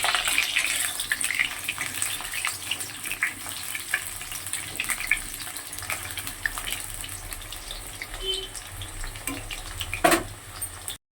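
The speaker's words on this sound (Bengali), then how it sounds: "আলুটাকে লাল লাল করে ভেজে নেব।" Potatoes fry in hot oil in a wok (kadai), giving a steady sizzle with occasional stirring scrapes, close and moderately loud throughout, with a sharper clatter near the end.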